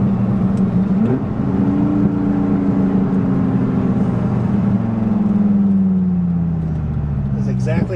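A 1997 Dodge Viper GTS coupe engine drones steadily, its pitch climbing and easing as it shifts at moderate revs, loud and continuous, with a person talking over it.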